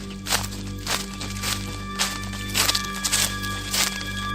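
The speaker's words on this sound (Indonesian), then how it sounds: "Sampai terdengar suara langkah kaki menghentak dan sontak mereka terjaga." Heavy stomping footsteps in a steady, evenly spaced series of thuds, about eight impacts, moderately close over a constant low hum, with no voices.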